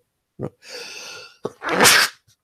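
A sharp inhale followed by two loud sneezes in quick succession, close and clear, with no talking.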